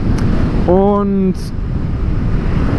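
Strong wind buffets a microphone outdoors during a KTM 1290 Super Duke R motorcycle outing, a loud, steady low rumble throughout, with a brief spoken word rising over it.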